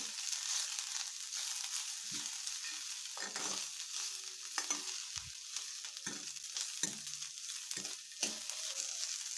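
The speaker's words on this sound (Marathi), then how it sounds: "हे सर्व साहित्य व्यवस्थित परतून घ्यायचं" Cauliflower curry ingredients, including three or four garlic cloves, sautéing in a pan: a steady soft sizzle with intermittent scraping stirs of a spoon against the pan, moderately quiet and close, no voices.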